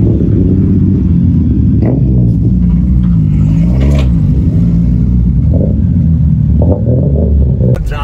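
Toyota rally car engine at a ceremonial rally start, loud and close, with a deep rumbling idle that rises into several revs and settles back.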